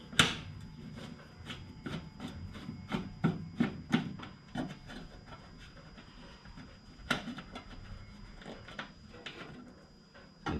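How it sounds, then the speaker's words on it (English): A screw is worked out of a PitBoss PB-39P350 pellet smoker, heard as a series of close, rhythmic scraping and ratcheting clicks from a hand driver, fairly quiet, with brief pauses. "Take this screw out."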